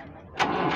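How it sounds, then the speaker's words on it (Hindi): A tractor engine at a rural tractor market self-starts with a short, loud burst of cranking noise that rises suddenly out of a low background rumble and carries on as a rougher running sound. "एक बार सेल्फ स्टार्ट करके दिखा दो।"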